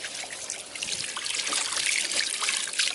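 Running water trickles and splashes continuously at a restaurant, a soft steady bright burble with small fluctuations and no voices.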